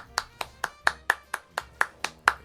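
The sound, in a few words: applause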